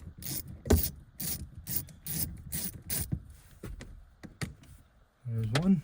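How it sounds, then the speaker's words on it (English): Ratchet work undoing bolts on an NV4500 transmission under a 2001 Dodge Ram 2500, a rapid series of sharp clicking bursts close by, with rubbing and scraping between them and a short whirring at the end. "Now there's 6 or 8 bolts that I have to take off, which I need to grab this ratchet again"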